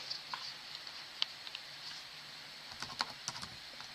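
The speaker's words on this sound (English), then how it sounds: "I'm just going to type in" Faint computer keyboard typing, a few scattered keystrokes then a quicker burst of taps, close but quiet over low room hiss.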